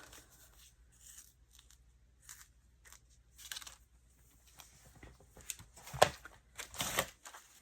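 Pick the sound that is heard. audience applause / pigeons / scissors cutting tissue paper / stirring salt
scissors cutting tissue paper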